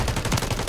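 Gunfire from the Warzone video game comes as a quick burst of several sharp shots packed into under a second, loud and close.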